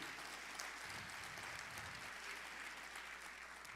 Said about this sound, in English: Let's give them a nice round of applause, too.